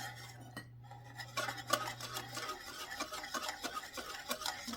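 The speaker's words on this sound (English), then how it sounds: "And you're going to continue whisking" Eggnog cheesecake batter being whisked by hand in a bowl, with a steady rhythm of quick scraping and clicking strokes at close range that start after a brief pause and carry on throughout.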